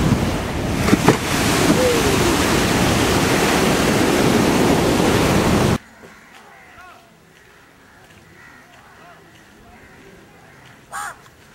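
Sea waves break on a shore under strong wind buffeting the microphone for about six seconds, with crows cawing, then it cuts to a much quieter scene with faint sounds.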